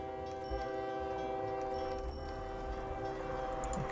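A train running in the rail-transport game OpenTTD, its steady rumble and rail noise held under a sustained horn-like tone at moderate, even level throughout.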